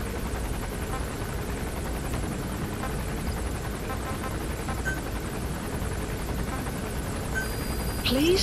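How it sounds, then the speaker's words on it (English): A support helicopter approaches in Metal Gear Solid V, its steady rotor thump and engine drone continuous and fairly loud, rising slightly at the end. "Support helicopter requested."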